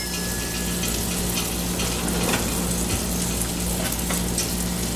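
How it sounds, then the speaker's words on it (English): Butter sizzling in a hot cast iron skillet in a preheated oven setting, a loud steady frying hiss with faint crackles throughout, close and continuous. "So I'm going to dump that butter into my pan."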